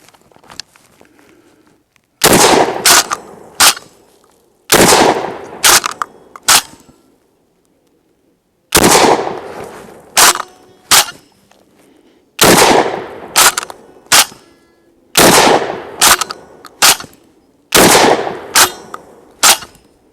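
A KelTec KSG 12 gauge pump shotgun fires double-aught buckshot, each loud booming blast echoing outdoors, with the shots coming in several quick groups separated by short pauses and no talking.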